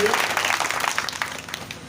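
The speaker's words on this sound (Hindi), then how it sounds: "आप लोग जोरदार तालियां बजाइए उस गीत के लिए" Applause from listeners at a Diwali Hindi poetry gathering, a clattering burst of hands that is loudest at first and gradually thins and fades.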